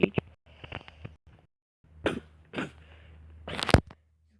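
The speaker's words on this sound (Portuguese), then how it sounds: "desculpe pela minha tosse" A person coughing, a few short rough bursts broken by pauses, with a harsher loud cough near the end, close and dry.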